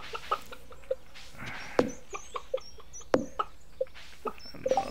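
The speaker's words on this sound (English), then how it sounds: "There's the tiny chicken." Small chickens in the farming game Stardew Valley give scattered short clucks and chirps, several separate calls with brief sharp peaks across a quiet background.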